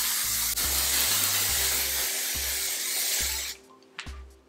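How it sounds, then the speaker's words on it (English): Spray foundation makeup hisses from a can in a long continuous burst close by, over a low rhythmic background beat, then cuts off and leaves faint short sounds. "Pakai foundation yang spray biar cepat."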